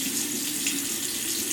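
Tap water runs steadily into a bathroom sink with a broad, continuous splashing hiss, close and even throughout with no talking.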